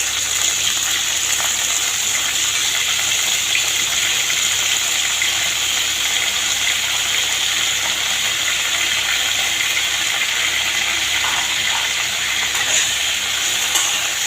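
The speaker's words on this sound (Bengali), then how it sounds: "তেল গরম হয়ে এসেছে, ফুলকপি ছেড়ে দিচ্ছি তেলের মধ্যে" Cauliflower frying in hot soybean oil gives a steady, loud, continuous sizzle that stays even throughout, with no voices.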